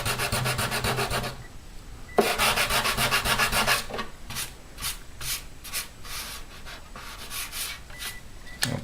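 Hand scraping of old finish off the wooden body of a Washburn acoustic guitar under repair, a steady run of short rasping strokes, close and fairly loud, with brief pauses between passes.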